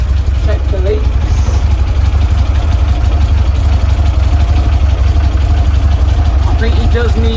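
A 1967 VW splitscreen engine idles after a service with new HT leads and spark plugs, giving a steady low, throbbing rumble with a faint mechanical chatter, loud and continuous throughout.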